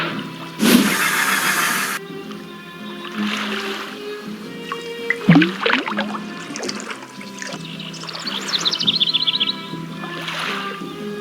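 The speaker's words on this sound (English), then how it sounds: "Now I toss this in the water" A fishing hook and bobber land in water in a Nancy Drew game, giving a brief splash amid a bright, watery ambient backdrop with occasional birdlike chirps and trickling sounds.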